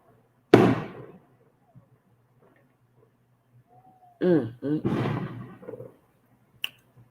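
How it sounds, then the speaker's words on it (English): Firecrackers go off outside, with one sharp loud crack, a brief tonal vocal-like sound in between, and a second faint pop near the end in an otherwise quiet night. "these fucking firecrackers is getting on my nerves"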